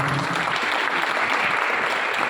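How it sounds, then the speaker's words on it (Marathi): Steady, dense applause from an audience at a grand event for the Hindi play Ghasiram Kotwal, loud and continuous throughout with no talk over it. "एकदा जोरदार टाळ्या सगळ्यांसाठी"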